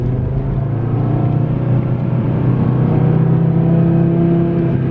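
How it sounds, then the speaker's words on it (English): Audi TT RS five-cylinder turbo engine pulls hard while merging onto a freeway, a steady loud drone with rising harmonics under constant road roar, no talking. "This 5-cylinder turbo is just so on point."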